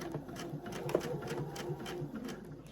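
A home sewing machine stitches a short leader on fabric ahead of a pillowcase seam, a quiet, steady run of rapid needle clatter with faint rhythmic pulses and no talk.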